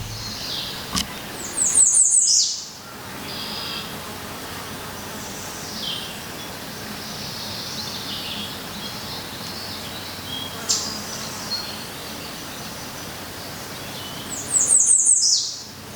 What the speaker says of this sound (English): all through summer and into early fall, the birds sing and they flit about